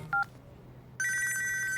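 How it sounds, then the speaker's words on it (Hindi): A telephone rings with an electronic trill in a Hindi-dubbed South Indian film, starting with a short chirp and then a sustained ring that continues to the end. "अरे शीला फोन कर रही है"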